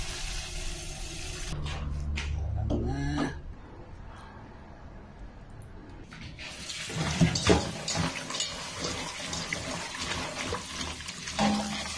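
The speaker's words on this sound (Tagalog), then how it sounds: "Lagyan niya ng tubig na sabaw." Broth water poured into a cooking pot while bamboo shoots (labong) are cooked, a steady splashing pour that starts a few seconds in and continues through the clip, with a voice heard briefly early on.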